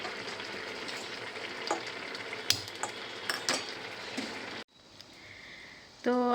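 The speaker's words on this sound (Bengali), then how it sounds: "তো চলো কড়াটা বসিয়ে দিয়ে তেলও ঢেলে দেবো।" Hot oil sizzles and crackles steadily in a small wok while gulab jamun are fried, with occasional utensil clinks; the sizzle then drops suddenly to a quieter hiss near the end.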